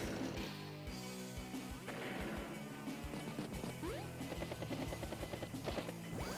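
A Battlecopter strike in the video game Advance Wars by Web: a continuous rotor-like chopping drone with repeated crunching, thudding impacts and crashes, all layered over game music.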